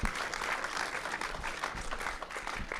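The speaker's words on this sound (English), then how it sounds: "let's give that a round of applause." Steady applause from a crowd at a community forum, dense and continuous, heard at moderate distance and fairly soft.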